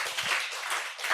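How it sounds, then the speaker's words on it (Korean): Congregation at a Monday church revival service applauding together, a continuous dense patter of many hands clapping at steady loudness, brief and without speech. "그렇게 하실 하나님께 박수만 올려드립니다"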